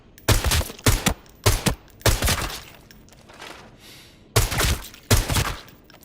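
Loud, close gunshots from a rifle in Arena Breakout: Infinite, fired in separate single shots and short bursts during a recoil test, with brief quiet gaps between them and no talking.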